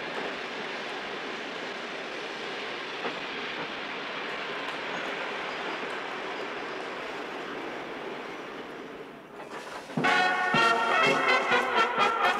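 A steady rumbling train roll fills most of the stretch, fading slightly before sharp metallic clatter and squealing bursts as the carriages slow, arriving at a station platform.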